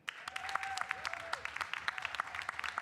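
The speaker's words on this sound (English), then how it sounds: "let's please give them an extra round of applause" An audience at a live sustainability expo stage applauds speakers as they come on, giving a brisk, steady patter of clapping, with a faint electronic tone gliding in the background.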